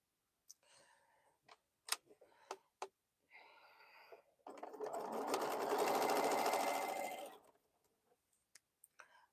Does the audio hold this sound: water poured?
no